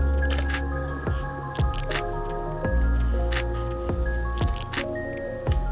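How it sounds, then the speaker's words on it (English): Fruit being squeezed by hand into a batch of red sangria, a series of close wet squishes and drips in an irregular rhythm, about five or six squeezes, with no talking. "we're just going to squeeze some of this fruit in here"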